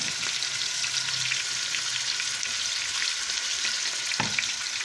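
Minced meat fries gently in a pan over low heat, a steady close sizzle and crackle that holds at an even level, broken by a faint clink of a utensil near the end.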